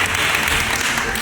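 An audience applauds a sambo vice-champion, dense loud clapping from many hands filling the short moment without a break.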